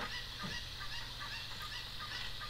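A cucco chicken squawks in The Legend of Zelda: Ocarina of Time, honking cries over a steady droning game background, close and fairly loud.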